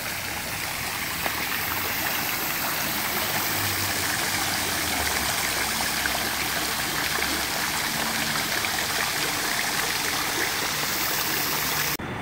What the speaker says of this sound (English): This fountain's really cool too